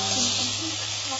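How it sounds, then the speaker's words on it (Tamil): Masala with garam masala sautéing in a hot pan, a steady broad hiss and sizzle that stays even and close for a brief moment. "இந்த மாதிரி நல்லா வதக்கிக்கலாம்"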